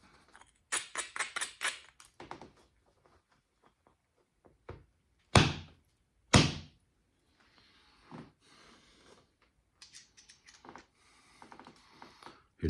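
Blocky creek cobble being struck with a hammerstone to knock off a chunk, two sharp loud cracking impacts standing out among quieter taps, clicks and handling noises.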